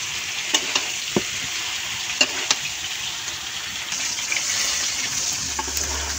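Mango pickle being stirred in a pan with salt and spices, a steady sizzling bed with scattered scraping and clinking spoon strokes against the pan, close and continuous, no talk.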